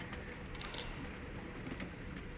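Racing pigeons coo in a loft, soft low throaty calls repeating under a steady background rustle, nearby and moderately quiet, with no talk.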